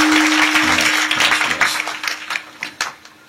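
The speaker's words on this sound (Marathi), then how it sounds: "सर्वांना विनंती करतो या गुणीजनासाठी एकदा टाळ्या वाजवायच्या" An audience claps for the singers and musicians at a devotional music gathering. The applause starts dense and sustained, then thins into scattered, separate claps toward the end.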